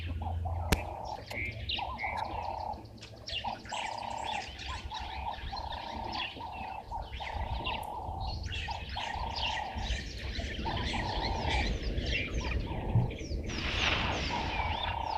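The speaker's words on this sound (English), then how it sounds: "You can hear water thickney whistling away." Water thick-knees whistle at a waterhole, their repeated piping calls rising and falling in phrases among other birdsong, with an insect or frog hum underneath.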